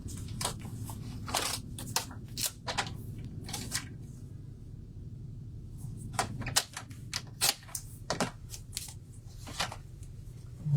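Card stock cut to 4.5 centimetres with a paper trimmer, a series of sharp crisp snips and clicks in uneven bursts, with quiet pauses between them.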